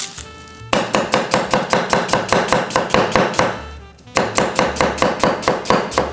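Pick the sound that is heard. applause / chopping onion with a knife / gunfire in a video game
chopping onion with a knife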